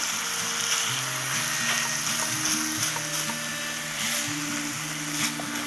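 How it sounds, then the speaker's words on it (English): Ground turkey and onions fry in a pan with a steady, close sizzle and crackle, while a hum wavers in the background, with no voices. "The onion is starting to cook, the turkey is starting to cook."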